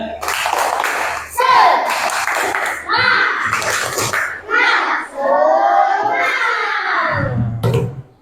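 Children in a classroom do a rhythmic spirit clap, tepuk semangat, chanting in bursts between sharp, close claps, with a brief pause partway through.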